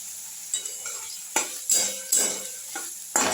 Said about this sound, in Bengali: আর একটু আর একটু তেল দিয়ে দিলাম